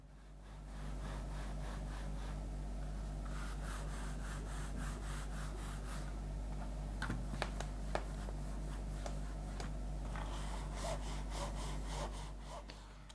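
Budget gaming mice, including a Fury model, slide back and forth on mousepads, producing a steady rhythmic scraping friction noise, close and continuous over a low electrical hum.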